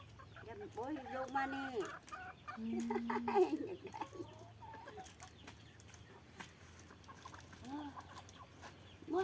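Several junglefowl cluck in short, irregular bursts at moderate distance, with quiet background noise between calls.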